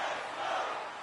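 Ice hockey arena crowd in NHL 26 roars in a brief, dense swell of cheering, a steady wash of many voices at moderate loudness with no single caller standing out.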